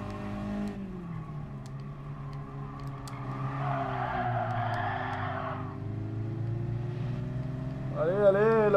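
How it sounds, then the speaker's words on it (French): Race car engine in Gran Turismo Sport winds up and down through gears under acceleration and braking, pitch rising and falling over a steady mechanical hum, ending with a wavering, surging burst. "On voit que j'ai un moteur plus puissant hein."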